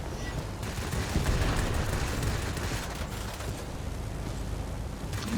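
Rapid automatic gunfire from behind an Ilyushin IL-2 ground attack aircraft in a flight combat video game, a dense continuous rattle mixed with engine roar and blasts, loud and steady for several seconds with no voices.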